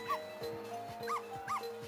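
Short, cartoonish dog yips and barks from the video game Ghost Trick: Phantom Detective repeat several times over steady background game music, moderately loud and without speech.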